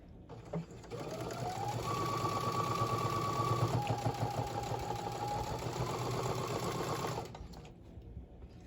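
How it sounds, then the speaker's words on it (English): A sewing machine runs a continuous quarter-inch seam joining pink and blue fabric for a mini quilt, a steady close whirring hum for several seconds that starts and then stops. "I'm going to sew a 1/4 inch seam."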